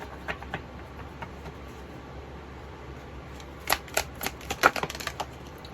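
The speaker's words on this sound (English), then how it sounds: "I'm going to shuffle one more time" A deck of tarot cards is shuffled at close range. After a quiet stretch with a few faint ticks comes a burst of crisp riffling snaps and clicks over roughly two seconds, with no voices.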